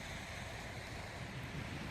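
Ocean waves washing ashore near a wooded spot, a steady soft surf wash with some wind noise, faint and continuous with no talk.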